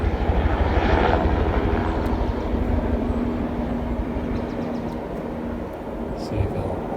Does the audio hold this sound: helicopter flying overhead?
yes